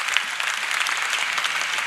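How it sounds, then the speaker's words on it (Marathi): Steady applause from a kirtan audience clapping for the volunteer helpers, a dense even patter of many hands with no voices over it. "सेवेकरी मंडळीसाठी एकदा टाळ्या वाजा महाराज."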